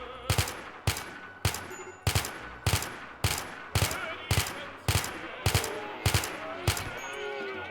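Colonists in Rimworld fire guns in a steady rhythm of about a dozen sharp, loud reports roughly every half second, each ending in a short ringing tail.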